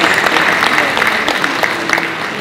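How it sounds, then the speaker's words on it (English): Brief applause from an audience at an e-learning summit, a dense close patter of clapping that holds steady throughout. "another big round of applause"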